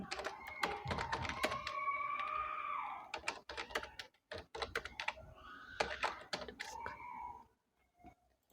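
A username is typed on a computer keyboard: quick, irregular bursts of close key clicks over several seconds, with faint murmured sounds underneath, then a pause and a few last taps.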